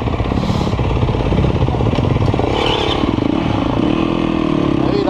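An enduro motorcycle with a straight-pipe exhaust, its muffler internals removed, runs loud and close, its rough, clattering idle steady throughout and rising briefly in a rev partway through.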